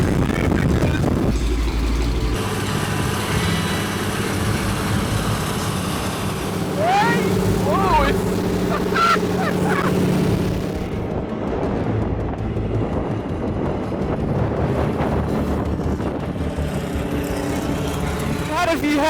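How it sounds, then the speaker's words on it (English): A small stunt plane's engine roars loud and steady throughout, thick with wind buffeting, while a voice talks over it for much of the time. "If Harley Davidson made a plane, it would sound like this."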